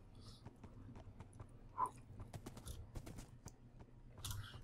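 Horse hooves clip-clop steadily in the video game Minecraft as horses run along, a quick repeated beat that stays fairly close and moderately loud, with a brief sharp sound partway through and no talking.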